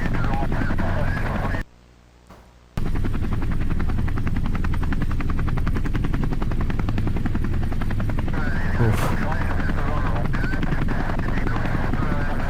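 A helicopter's rotor thumps steadily and loudly over the Pacific Ocean, broken by a brief cut near the start, with faint voices underneath at times.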